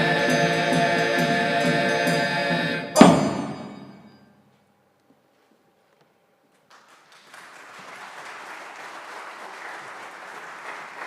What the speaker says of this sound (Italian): E in chiusura arriva l'applauso dei presenti.